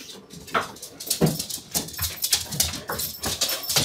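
Several excited dogs whimper, whine and yip continuously at close range, with occasional short barks breaking through a steady, agitated chorus.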